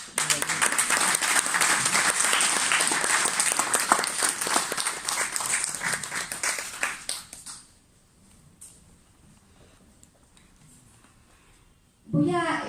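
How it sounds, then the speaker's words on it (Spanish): Audience applause for the poet at a Spanish-language book launch, a dense sustained clapping that fills the room for about seven seconds, then fades to near silence before a brief burst returns at the end. "Un aplauso para ti"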